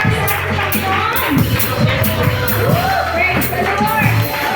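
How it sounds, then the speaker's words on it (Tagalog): Applause from a church care group inauguration gathering, a dense, steady wash of clapping lasting several seconds, with voices carrying over it. "Malakas na palakpak sa ating Panginoon!"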